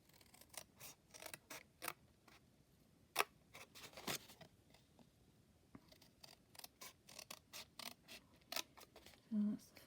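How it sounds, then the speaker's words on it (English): Scissors cutting triangles out of fabric or paper, a string of quiet, irregular snips and clicks spaced across the clip, close but faint. "all we're going to do is cut these triangles out at the bottom"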